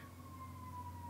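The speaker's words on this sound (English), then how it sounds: "I'm not sure if you can hear the siren in the background" A faint emergency siren wails steadily outdoors in the distance, a thin sustained tone over a low background hum with no one speaking.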